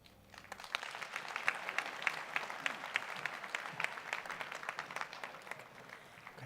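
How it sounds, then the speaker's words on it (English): An audience claps after an award acceptance speech at a distinguished alumni awards ceremony. The applause is sustained and fairly distant, building in over half a second and then continuing steadily for several seconds. "Another round of applause"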